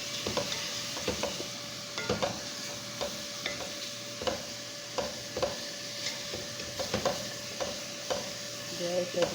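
Chopped vegetables with tomato sautéing in a pan, a soft steady sizzle broken by a regular rhythm of utensil scrapes and taps, close but fairly quiet, no talk.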